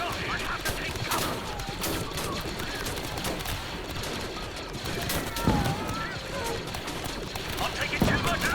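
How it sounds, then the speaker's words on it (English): Blaster gunfire in a Star Wars: Galaxy at War clone base defense battle rattles in dense repeated bursts, loud and continuous with heavier impacts, while someone talks over it. "I'm taking too much fire. I'm getting shot here."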